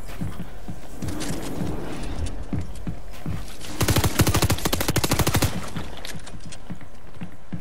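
Gunfire in Fortnite: scattered single shots give way to a loud, rapid automatic burst of about two seconds, followed by a few more isolated cracks.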